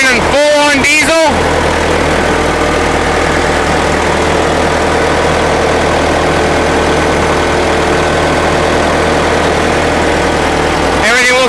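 An International Harvester UD9 diesel generator set runs at a steady loud drone with a deep low rumble, while someone speaks briefly at the start over the engine.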